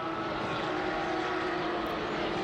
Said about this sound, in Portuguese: a gente está escutando, é o helicóptero